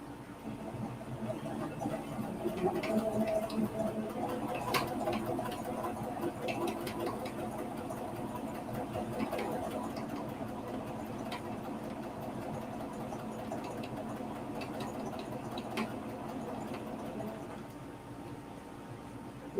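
A domestic sewing machine stitches embroidery in a continuous, faint mechanical whir. The steady hum and light ticking hold for most of the stretch, then ease slightly at the end.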